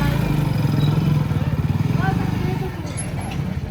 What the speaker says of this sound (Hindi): बाइक चला रही है।